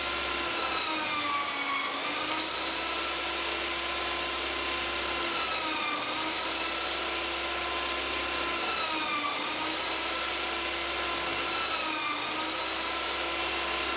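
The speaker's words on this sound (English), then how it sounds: "I will cut them out on the bandsaw now." A bandsaw cuts wooden lamp spacers, a steady loud whining hum with the pitch dipping slightly every few seconds as the blade bites into the wood, running alone without speech.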